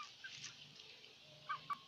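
Native chicks give a few short, high peeps near the end, faint against a quiet, hissy background.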